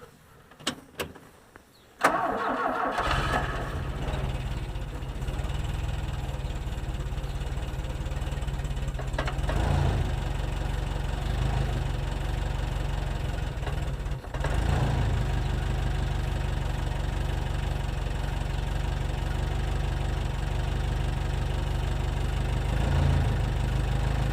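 A skid steer engine in 20-degree cold cranks and fires with the choke pulled out, then settles into a steady, loud, close idle that runs on without a break.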